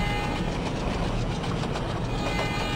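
The Koyna Express runs at full speed in the Open Rails train simulator game, a steady loud rumble of wheels and rail noise with a faint rhythmic clatter that continues unbroken throughout.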